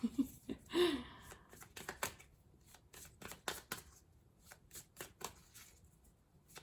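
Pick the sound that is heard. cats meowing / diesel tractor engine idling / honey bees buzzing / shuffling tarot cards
shuffling tarot cards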